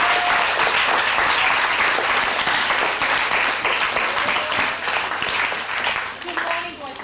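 School audience welcoming a guest speaker with a big round of applause, dense sustained clapping from many hands that stays loud throughout and tapers slightly at the end.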